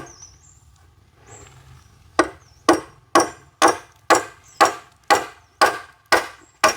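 A hammer drives nails into a wooden roof frame on a house under construction: after a quiet start, nine loud, evenly spaced blows land close by at a steady rhythm with no talk.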